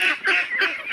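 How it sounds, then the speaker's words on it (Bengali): A flock of about 400 farm ducks being fed wet mash, giving repeated nasal honking calls in three overlapping bursts, fairly loud and close, with no talking. "কতগুলা হাঁস আছে? হাঁস আছে 400।"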